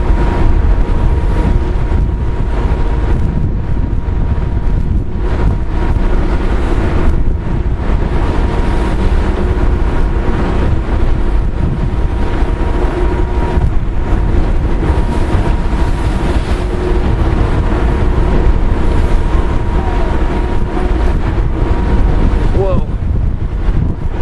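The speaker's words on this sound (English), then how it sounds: "this is crossing the strait on a windy day." Strong wind buffets the microphone steadily on the open deck of the ferry M.V. Kennewick, crossing the strait from Port Townsend to Keystone, with low engine and water rumble beneath throughout.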